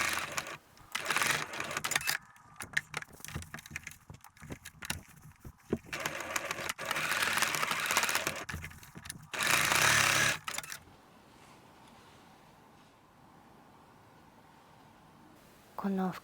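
A sewing machine stitches a drawstring pouch made from fabric scraps, running in loud, fast bursts of needle clatter with brief pauses, heard close up before falling quiet, with a few soft handling sounds afterwards.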